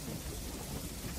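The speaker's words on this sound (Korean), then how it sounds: "천둥과 우박을 그치게 해다오." Thunder rumbling with a steady hiss of rain or hail, continuous and fairly loud throughout a short stretch, no voices present.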